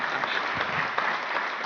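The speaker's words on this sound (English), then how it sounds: "Yeah, applause." Conference audience applauds a volunteer called onto the stage, a brief dense burst of many hands clapping, fairly loud and continuous with no pauses.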